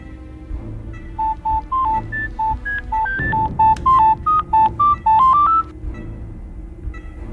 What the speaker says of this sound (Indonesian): Coba ke handphonenya.